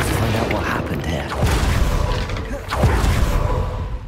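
A Confringo blasting spell explodes in Hogwarts Legacy, with several deep booms and whooshing bursts in a busy game scene, with thuds at about one and a half and nearly three seconds.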